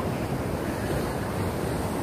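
Ocean surf at Pantai Ujung Genteng beach in Sukabumi, with steady, loud breaking waves and wind rushing across the microphone, with no voices.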